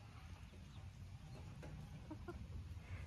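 Hens in a backyard flock give soft, short clucks at close range, a few scattered calls over a low steady background hum.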